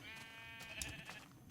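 A Minecraft sheep gives one short, faint bleat alone, wavering briefly before fading.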